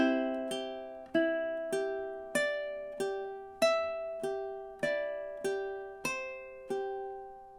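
Fingerpicked ukulele plays a steady run of about twelve plucked notes through two measures of the Hawaiian song Loke Lani, each attack ringing into the next, close and clean with no voices.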